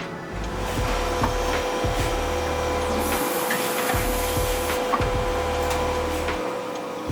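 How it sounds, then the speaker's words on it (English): CNC milling machine cutting solid blocks of aluminum in a tool workshop, a loud steady whine and grind with a rhythmic low pulsing of the cutting passes, near and continuous. "see how the tool is milled out of solid blocks of aluminum at one of our state-of-the-art CNC milling machines"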